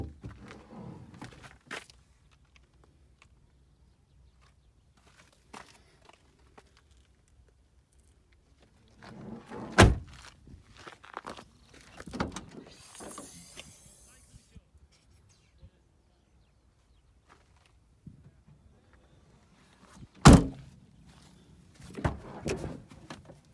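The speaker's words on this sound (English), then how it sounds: "Just open all 4 doors, show you the door cards." Doors of a 2000 Suzuki Wagon R Wheelhome one-berth camper conversion opened and shut in turn, giving a few sharp, close thuds and clunks spaced apart, with quieter handling and rustling between them.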